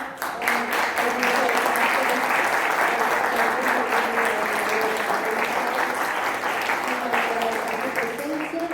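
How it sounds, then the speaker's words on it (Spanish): Sustained audience applause after a talk on contemporary art collecting in Mexico, dense steady clapping from a large seated crowd, loud and even for several seconds. "pues un fuerte aplauso."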